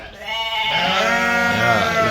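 Dorper sheep and lambs bleat at a feeding area on a farm, with several overlapping, wavering calls close by forming a continuous chorus.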